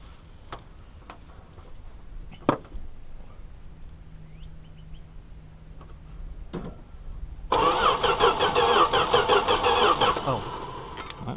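A 1971 Valiant that had been parked since 2002 cranks over as someone tries to start it, a loud, steady, rhythmic churning that begins about two-thirds of the way in after some quiet clicks and handling noises.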